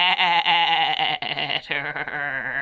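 A goat bleats in a long, loud, wavering cry from the 1980s Alice in Wonderland television miniseries, broken into several quavering pulses with brief gaps, close and alone.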